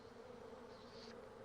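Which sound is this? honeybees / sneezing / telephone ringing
honeybees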